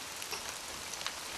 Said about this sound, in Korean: 그때 갑자기 또 비가 내리기 시작했다